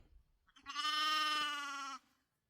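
A ewe with newborn lambs on a foggy, chilly farm gives a single clear, sustained bleat lasting over a second, close and distinct with nothing else around it.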